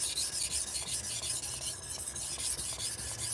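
A knife blade being worked back and forth on a sharpening stone, raising a burr, gives a steady, close, continuous gritty rasping with repeated strokes and no speech.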